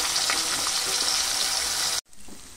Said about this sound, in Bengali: মাছটা ভালো করে ভাজলে কাঁচা গন্ধটা থাকবে না মাছের